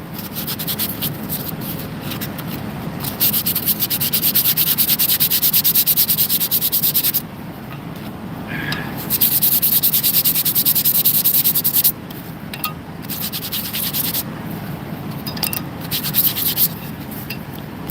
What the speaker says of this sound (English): Now, sandpaper here.